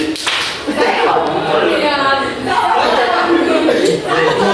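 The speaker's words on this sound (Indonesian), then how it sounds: "Tepuk nyamuk kanan." A classroom clapping game of swatting imaginary mosquitoes, with sharp hand claps and slaps ringing out between lively chatter and laughter from a group of participants.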